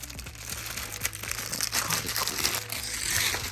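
Plastic wrap is handled and crinkled up close, a continuous run of crisp crackling and rustling with irregular louder bursts, no voices.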